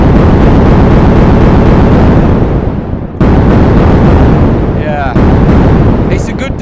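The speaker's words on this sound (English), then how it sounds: "it's a good explosion sound, though" A loud, meaty explosion effect added as a shot sound in a game in development booms with a dense rumbling blast, fades, then erupts again around the middle and rolls on with crackling debris.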